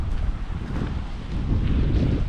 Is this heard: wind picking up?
yes